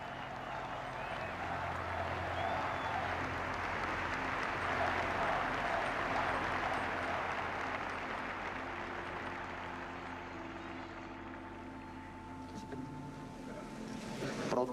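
Sustained applause fills a hall at a Mexican presidential inauguration as the outgoing president joins in, fairly faint and distant under a low background hum, thinning toward the end.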